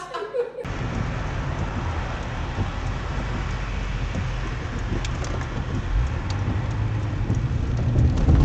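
Steady rain drums on the roof of a Cadillac Escalade in Almaty, a dense continuous patter that holds at an even level for the whole stretch after a brief quieter opening, with no voices.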